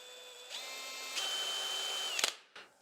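A cordless drill with a 68 mm Forstner bit bores into birch plywood. The motor whine rises in pitch in steps, then holds as the bit cuts, and ends with a brief rattle and a final short burst.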